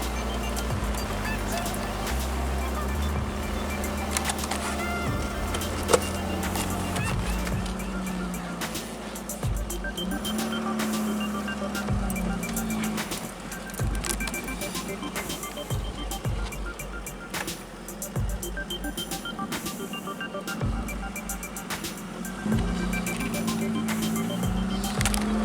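A 1984 Pontiac Fiero with a manual clutch is driven, its engine droning low and shifting pitch as it pulls, with rattles and road noise in the cabin. A person talks at times.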